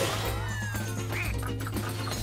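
Ducks quack in the video game Rayman Legends, short nasal calls scattered over busy game music and effects, with a sliding tone near the start.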